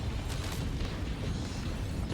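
A low, rumbling EMP detonation in the video game Crime Boss: Rockay City, a sustained loud boom with heavy bass that holds steady for about two seconds, with no voices over it.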